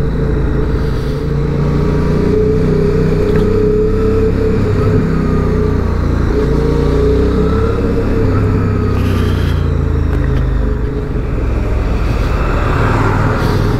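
A QJ Motors SRV 550 motorcycle, 2023 model with its stock exhaust, idles steadily with a low, constant rumble that echoes off nearby walls. It is loud and near and runs alone throughout, with no talking.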